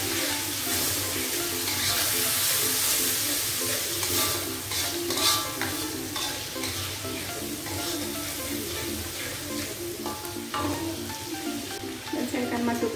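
Fried kway teow noodles are tossed and stirred in a hot pan with sweet soy sauce and chili sauce, a dense steady sizzle with clattering scrapes and knocks, close and continuous.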